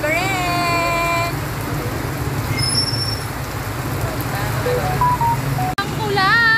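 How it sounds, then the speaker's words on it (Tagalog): Heavy rain drums steadily on a vehicle during a storm, with road traffic around it, while a few voices talk over the downpour. "Oh, lakas ng ulan."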